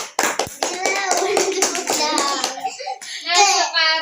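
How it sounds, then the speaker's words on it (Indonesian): A seventh-grade classroom of students applauds a classmate, brisk hand clapping blending with children's chatter and voices for a few seconds before the noise settles. "Kasih tepuk tangan buat Tati"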